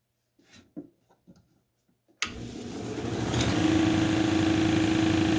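After a few quiet soft knocks, a lapidary grinder starts abruptly and runs with a steady loud whir and hum while a red jasper cabochon is shaped against the wheel.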